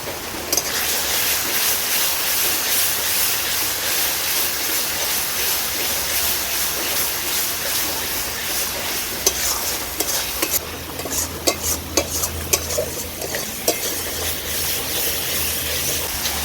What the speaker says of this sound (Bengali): মশলাটাকে বেশ ভালো করে আমি কষিয়ে নিয়েছি।